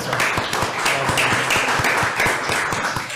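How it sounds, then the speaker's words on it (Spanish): An audience at a creative-industry forum applauds a guest named Ángel, with steady, close, moderately loud clapping that continues evenly throughout. "Un aplauso para Ángel."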